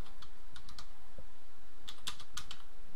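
A computer keyboard being typed on in short bursts of clicky keystrokes, a few quick clusters separated by pauses, close and fairly quiet with no voices.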